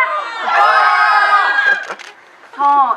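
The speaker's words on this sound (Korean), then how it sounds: "제일 함성이 크셨어요" A film talk-event audience cheers and shouts at full voice, a loud burst of many voices that briefly thins and drops, then surges again in a second sharp shout near the end.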